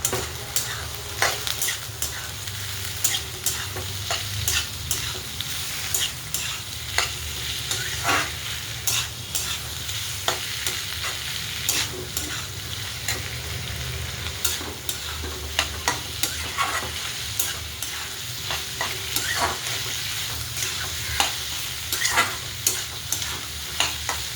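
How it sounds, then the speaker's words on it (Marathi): Roasted cluster beans are stirred through a pan of spiced vegetable curry, a steady sizzle of frying with repeated scraping spoon strokes running throughout, close and fairly loud, with no voices. "आता गवार भाजलेली टाकून घेऊया. एकजीव करूया."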